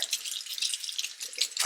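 Cold tap water runs into a sink to rinse crimson clover seeds, a continuous close hiss and splash lasting under two seconds, with no talking.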